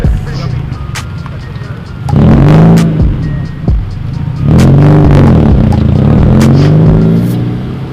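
A Mazda RX-7 FD with a loud rotary engine revs hard in two long, roaring bursts close by, with lighter idling between them and brief talk underneath.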